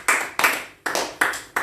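Audience clapping in acclamation at a French-language Christian worship gathering, five distinct bursts of claps at an uneven rhythm, fairly close and moderately loud, with no talking over them.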